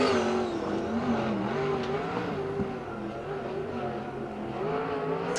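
USAC Western World Championship sprint car on a qualifying lap, a steady loud engine drone with shifting pitch as it works around the racetrack, continuous and close throughout.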